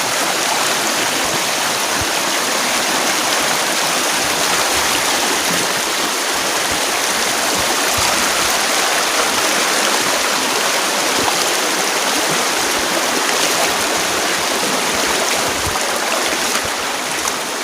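River water flows loudly and without a break, a dense, close, broadband rush with a bright hiss and no talk.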